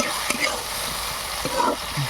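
Small puti fish frying in hot oil, a close continuous sizzle with stirring scrapes and a few utensil clicks.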